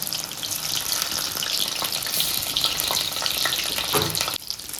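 Pieces of maida dough deep-frying in hot oil, puffing up as each one goes in, with a steady loud broadband sizzle throughout and a brief dip near the end.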